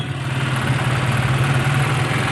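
A vehicle engine running right after its regulator was repaired, a loud, close, steady idle with a constant low throbbing pulse and rough vibration throughout, no voices.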